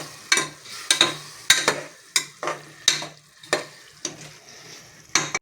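Chicken biryani masala is stirred in a pot with regular scraping strokes, about a dozen rhythmic strokes close and clear over a soft sizzle, with no voices.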